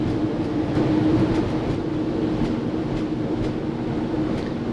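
A freight train rolls past farm fields, a continuous heavy rumble with regular clicking wheel beats on rail joints, fairly close and steady throughout.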